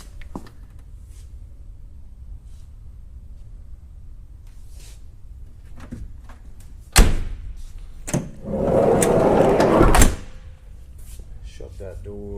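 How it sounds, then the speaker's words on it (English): A car door slams shut once with a sharp thud after a stretch of quiet handling sounds, then a louder rustle or scrape follows. People talk throughout. "Shut that door."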